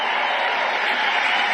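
A large audience at a Trump rally cheers in a dense, sustained roar, loud and even throughout, then stops with a sudden cut.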